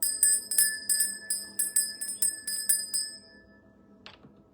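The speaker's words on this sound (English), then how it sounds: "let's go ahead and cleanse the space by ringing the bell." A bell rung to cleanse the space during a tarot reading, a run of about a dozen bright, clear strikes with a lingering ring. The strikes are close and evenly spaced for three seconds, then the tone fades out.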